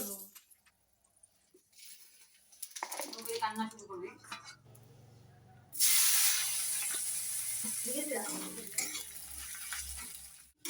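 Chopped bottle gourd tipped into a hot pan of oil with fried onions and fish, bursting into a loud sustained hiss and sizzle midway, preceded by stirring and pan clatter, with someone talking briefly early on.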